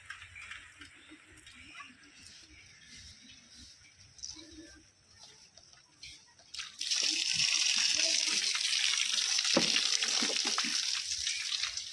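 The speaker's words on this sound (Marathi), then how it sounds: "पाणी चाललंय ना म्हणून म्हणलं घ्या भरून एवढं तरी." Tap water running into containers being filled, a quiet start with someone talking, then a loud steady gushing rush of water for the second half.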